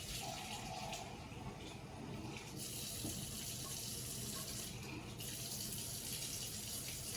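Warm water pours steadily from a kitchen tap during a pizza-making class, a close, continuous splashing hiss that shifts slightly in tone as the flow changes, with no talk.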